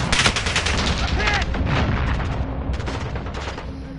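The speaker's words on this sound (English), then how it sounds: "Jesus Christ, I'm getting shot at from both directions" Rapid gunfire in the shooter game Call of Duty: Modern Warfare (2019) during a hardcore team deathmatch, dense bursts of loud close shots and automatic fire with faint voices mixed in.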